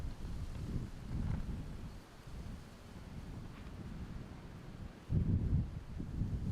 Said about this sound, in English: Man, ripping headwind.